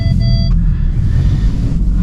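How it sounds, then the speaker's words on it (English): Intake roar from a tuned 420 hp Audi S3 driving in a snowstorm, a loud close low rumble with a brief high whine at the start. "Man, you could really hear those intake sounds too."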